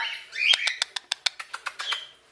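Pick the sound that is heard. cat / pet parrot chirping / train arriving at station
pet parrot chirping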